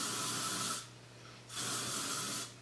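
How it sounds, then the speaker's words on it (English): Hairspray hisses from a can onto freshly curled hair in two short bursts close by, with a quiet pause between them. "Then I take my curls and I bring them over and then I spray them."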